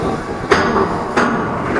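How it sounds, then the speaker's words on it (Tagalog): A fast truck rumbles across the Sula bridge in Bacacay, Albay, with a steady roar and two loud metallic clanks from the deck rattling beneath it. "Ang nakakatakot lang dito pag may dumadaan na mabibilis na truck gaya niya"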